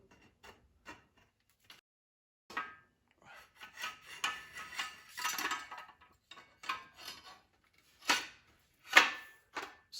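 A steering shaft slides into a GM Saginaw steering column on a workbench, giving scattered close-up metallic scrapes, rubs and small clinks, with sparse bursts separated by near silence.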